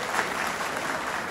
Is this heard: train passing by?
no